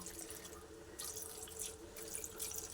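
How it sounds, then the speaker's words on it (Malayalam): Water running from a tap or being poured into a pan of chopped tomatoes and green chillies, a steady soft splashing flow with brief surges, fairly quiet and without talk. "ഇതിലേക്ക് ഇതൊന്ന് വെന്ത് കിട്ടാനായിട്ട് ശകലം വെള്ളവും കൂടെ ചേർക്കാം"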